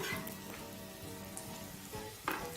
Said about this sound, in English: we're gonna start off by adding a bit of oil to our pan. And into that, we are going to add our white onions